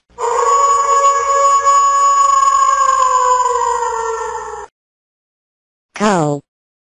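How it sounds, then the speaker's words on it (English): A wolf gives one long, loud, sustained howl that sags slightly in pitch, then after a pause lets out a short, sharp, wavering cry, both close and clear with no talk. "Wolf."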